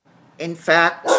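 Dogs bark in short, loud bursts at close range, intruding on someone speaking during an online library board of trustees meeting.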